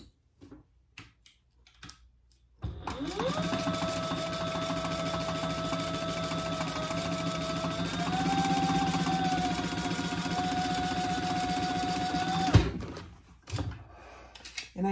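Sewing machine stitching two outside pieces of a Sheena Hobo bag together with right sides facing along a half-inch seam, a steady whirring run of about ten seconds with a slight speed change partway, bracketed by light handling clicks.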